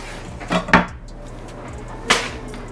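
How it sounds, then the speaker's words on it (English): A knife slices the root ends off peeled onions on a cutting board: two close, sharp chopping knocks near the start, then a single firmer cut after a short pause, with no talking. "Then what I do is I cut the root off."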